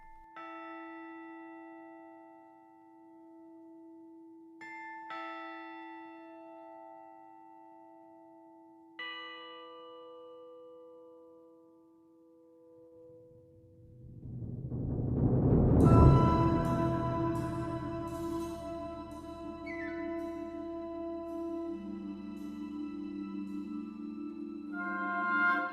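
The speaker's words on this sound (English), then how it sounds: "there are beautiful percussion chimes at the 5-minute and 45-second mark" Orchestral percussion chimes ring in sparse single strikes a few seconds apart, each tone decaying slowly over a soft held note. The orchestra then swells in a loud crescendo and the chimes continue ringing within the fuller ensemble.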